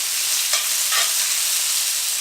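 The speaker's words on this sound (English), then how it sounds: "I'm gonna go ahead and add this chicken, and that's what you wanna hear, guys. I've said that before. You wanna hear the sizzling, that means you're cooking." Chicken pieces frying in a hot pan, a loud continuous hissing sizzle with a few soft stirring scrapes, close and steady with no talking.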